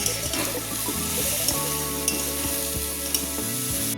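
Pointed gourd peels frying with salt in a pan give a steady close sizzle, broken by repeated scraping stirs of a utensil against the metal.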